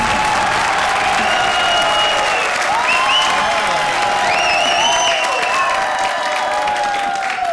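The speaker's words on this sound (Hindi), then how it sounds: "और जोरदार तालियां हमारी हॉरर जोड़ियों के लिए" Studio audience at a televised Hindi comedy show applauds and cheers for the guest horror pairs, a steady close wash of clapping with a tonal musical layer running over it.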